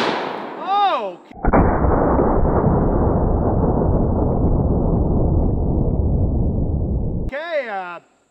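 A lever-action rifle fires at a target with a single loud, sustained blast that rumbles for several seconds, bracketed by a person's exclamations before and after.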